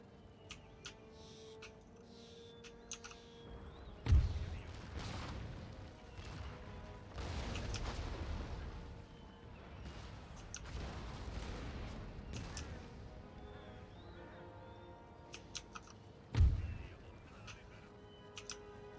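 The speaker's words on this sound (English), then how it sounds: "Cannons are going to be key to this." Cannon and artillery fire in Empire: Total War, with two sharp loud booms and scattered volleys rolling over a continuous battlefield din.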